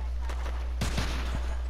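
Gunfire in the video game Red Dead Redemption 2: a few sharp shots crack out over a constant low hum. One sudden burst comes partway through, followed by a couple of quicker reports, with faint voices in the background.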